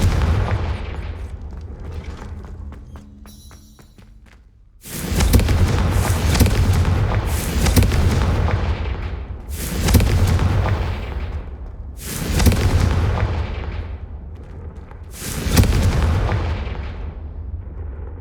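Confringo blasting spell explosions in Hogwarts Legacy, a series of five loud booming blasts at roughly even intervals, each with a long rumbling decay.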